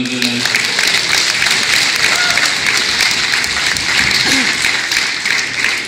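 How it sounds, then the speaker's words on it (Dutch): Steady applause from a carnival club's children's session audience, a dense continuous patter of many hands lasting throughout at even loudness, with some voices and crowd murmur mixed underneath. "Dan mag wel een klein applaus voor."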